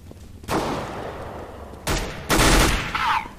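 Submachine gun bursts in Counter-Strike: Global Offensive, rapid loud volleys of fire in short clusters with brief gaps between them, close and dominant.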